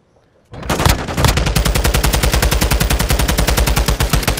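Sustained, loud automatic gunfire from the video game Call of Duty Modern Warfare II starts abruptly after a short silence, firing in an even, rapid rhythm of close shots until the clip ends, with no talk.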